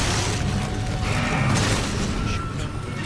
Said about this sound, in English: We're just gonna keep chucking freeze grenades.